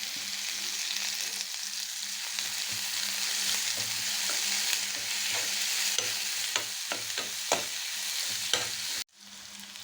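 Mustard seeds and chopped onion sauté in a pan, giving a loud, steady sizzle with repeated spatula scrapes and taps that grow more frequent before the sound cuts off abruptly near the end.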